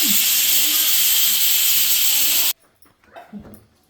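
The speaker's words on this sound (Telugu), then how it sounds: "తీస్తున్నానండి మూత తీసుకున్నాను కుక్కర్ మూత" Steam hisses loudly and steadily from a pressure cooker as its lid is opened while moong dal cooks, then cuts off abruptly, leaving a few faint clatters and soft handling sounds.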